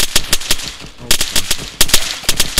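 Heavy .50 caliber gunfire in the Arma 3 video game, loud sharp reports in quick irregular bursts with short pauses between volleys, no talking.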